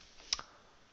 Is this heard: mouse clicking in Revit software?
yes